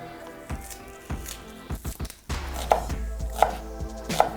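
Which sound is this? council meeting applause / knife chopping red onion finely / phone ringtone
knife chopping red onion finely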